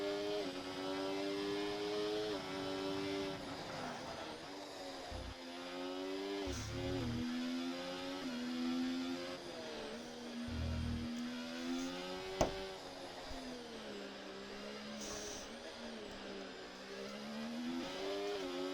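F1 race cars in the F1 24 video game during an Australia race under a virtual safety car, engines whining and rising and falling in pitch as several cars pass, fairly continuous and close.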